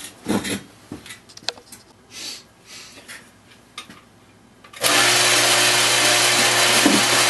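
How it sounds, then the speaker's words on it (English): A few scattered clanks and knocks, then a power drill starts up boring holes in steel blade blanks, running loud and steady, whining continuously until the end. "So we're going to go ahead and start drilling these things out now"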